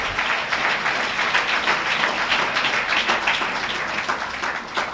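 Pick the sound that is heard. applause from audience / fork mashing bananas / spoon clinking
applause from audience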